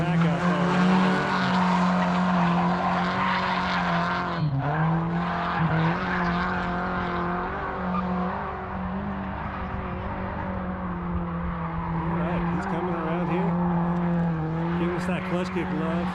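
A drift car at a competition pulls a clutch kick, its engine droning steadily while tires squeal and skid through a long slide, with a brief dip in the engine note partway through.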